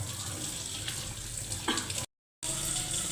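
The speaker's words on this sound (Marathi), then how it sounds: "हो का तीन चार वेळा धुतलेत आणखी एक वेळा धुवून काढते" A pan being rinsed under a running tap in a home kitchen, water splashing steadily and fairly loud, with a short silent gap partway through.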